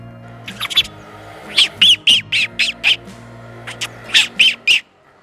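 A voice imitates bird calls: a rapid series of sharp, squawky chirps in two bursts, loud and close, with a low steady hum underneath.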